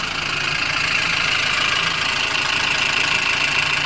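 A car engine idles after repair work on the oil pan gasket, running steady and unbroken with an even, busy mechanical hum, close and fairly loud, with no voices.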